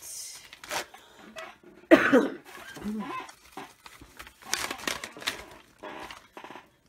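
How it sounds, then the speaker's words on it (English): A sharp, loud cough bursts out close by, with a couple of smaller coughs and throat noises mixed among someone talking. "Sorry guys, I'm coughing."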